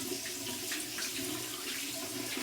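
Warm tap water runs steadily into a sink for a face rinse after shaving, a constant close splashing hiss with no pauses.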